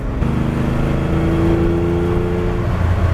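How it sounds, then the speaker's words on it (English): A 2022 Lamborghini Countach engine revs up hard and steadily climbs in pitch, a loud, close, continuous roar of acceleration with no talking. "The other benefits of flooring in this car, you hear it and you feel it."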